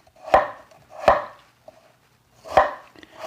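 Knife slicing potatoes thinly on a cutting board for a Korean braised potato and shishito pepper dish, three sharp, separate chops about a second apart, close and clear with quiet pauses between.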